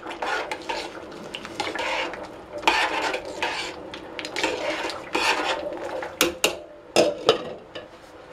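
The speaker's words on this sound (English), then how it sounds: "A good stir is always handy." A utensil stirs pasta in a metal pot on a Toastess cooker, with scraping, clinking strokes against the pot at an uneven pace and a few sharper knocks near the end, close by.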